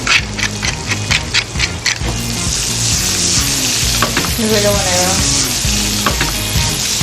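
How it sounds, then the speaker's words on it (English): Potatoes spread across a pan with turmeric and spices fry loudly, a steady close sizzle and crackle with occasional stirring scrapes, no talk. "Spread the potatoes across the pan. I want the potatoes stained."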